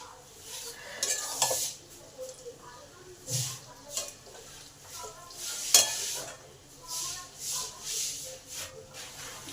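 Fish head and green peas tossed into a hot pan for a Bengali cabbage ghonto, with soft sizzling, scraping stirs and a few clinks of utensil on metal under a voice speaking.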